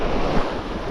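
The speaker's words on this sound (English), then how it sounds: "That swell is really starting to surge." A sea swell surges against a shingle shore in pouring rain, a continuous loud wash of surf mixed with heavy wind buffeting the microphone.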